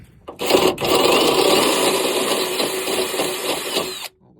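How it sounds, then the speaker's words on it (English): Power drill boring a hole in a truck fender brace for a Ford F-350 dually, a loud steady whine running about four seconds after a brief start, then stopping abruptly. "The hole is being drilled."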